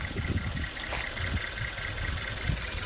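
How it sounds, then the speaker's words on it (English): A Ford Flex engine idles with a fast, steady tapping of its valves ticking over the even engine hum, close and moderately loud. "valves tapping as usual."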